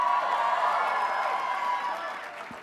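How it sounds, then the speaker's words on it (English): Audience applause at a college commencement class presentation: a dense, sustained wash of clapping and crowd noise that holds steady, then thins slightly toward the end. "Tyler gets more applause when his name's mentioned"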